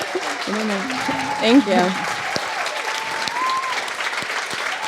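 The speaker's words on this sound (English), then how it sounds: "Please give them another round of applause." Audience applause at a grant ceremony where two women receive a $50,000 Toyota Driving Solutions award, a steady dense wash of clapping that runs the whole time beneath a few spoken voices and brief excited exclamations.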